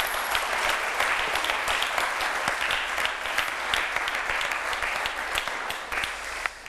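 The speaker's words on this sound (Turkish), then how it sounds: "Kocaman alkış. Bravo." A TV game-show studio audience breaks into loud, dense applause that holds steady for several seconds, a continuous wash of many hands clapping close up with no talk over it.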